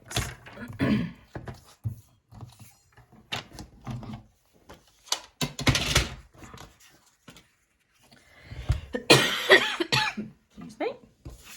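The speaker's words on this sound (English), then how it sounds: "Unfortunately, I've got a bit of a cough." A person coughs several times in short, sharp bursts with gaps between, close and fairly loud, mixed with throat clearing and tapping and rustling from paper crafting at a tabletop.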